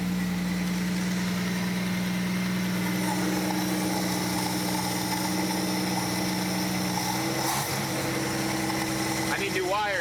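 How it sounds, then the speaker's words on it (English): A 1949 Studebaker engine fitted with a new carburetor idles steadily and close up, a low even hum that holds for about ten seconds and ends with a brief clunk and a few faint sounds. "Sounds better with this carburetor too."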